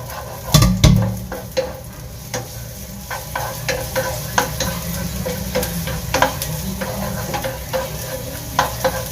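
Onions sautéing in a pan for chicken adobo, a continuous close sizzle broken by a loud initial clatter and repeated sharp spoon-against-pan taps as they are stirred.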